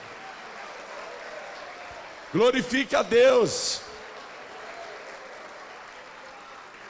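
A congregation applauds God during a Christian program, a steady wash of clapping running throughout while a voice calls out loudly over it for a moment.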